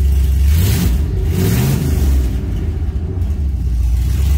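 Car engine fitted with a Holley Sniper EFI throttle body revving loudly up close, a rising rumbling surge that settles back into a steady idle, with no talking.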